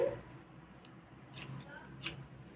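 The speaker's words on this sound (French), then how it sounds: "je coupe ce qui dépasse" Scissors trimming hair give a few soft, quick snips, faint and close, with quiet room noise between them.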